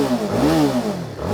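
A TVS Apache RR 310 BTO Edition motorcycle exhaust rises and falls in a single loud, close rev, giving a smooth, throaty swell with no talking.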